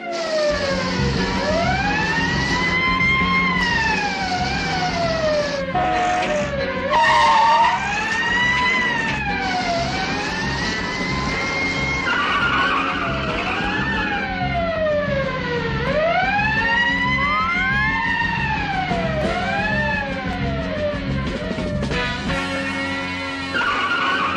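A cartoon police car siren wails in rising and falling sweeps for a long stretch, with a burst of skidding tires partway through and the siren carrying on loud and close to the end.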